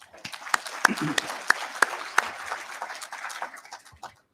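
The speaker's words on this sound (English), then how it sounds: "So I want one more round of applause for all those great companies that have helped us out." Audience at an economic development luncheon applauding for the sponsoring companies, a few seconds of steady clapping with sharp individual claps standing out, fading off at the end.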